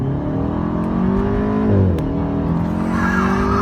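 A 2014 Mercedes-Benz SLK250 roadster accelerating hard from first gear in manual mode: a loud, close engine note climbing steadily in pitch, dipping briefly at a shift before rising again, with no talk over it.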